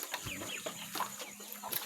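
Young backyard chickens clucking softly at close range, a scatter of short chirps and clucks over a faint background hum.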